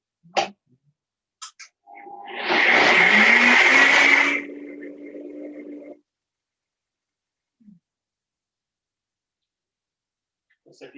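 A kitchen blender runs in a short whirring burst of about four seconds, preparing a vegan bolognese. The pitch drops and fades before it stops, with a few small clicks before and after.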